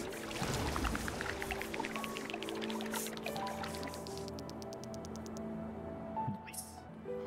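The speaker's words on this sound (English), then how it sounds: "we can fill this up with water" Water filling a basin in the Terra Nil game, a gurgling pour with drips and liquid squishes, steady throughout with a melodic musical score and a person talking over it.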